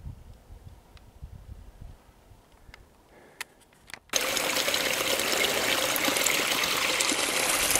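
A stream runs beside Old Stage Road in Colorado Springs, beginning with faint sounds before a loud, steady rush of flowing water sets in about halfway through and continues unbroken.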